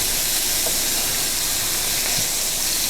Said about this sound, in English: I'm gonna put a good sear on all my New York strip here